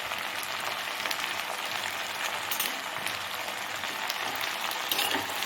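Mixed country vegetables for a Tamil kootu curry fry in oil in a pan, a steady, dense sizzle with soft crackles running throughout at even loudness and no talking.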